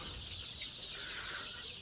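Chickens cluck and chatter on a poultry farm housing around 1500 birds, a dense, continuous flock murmur heard alone at low volume.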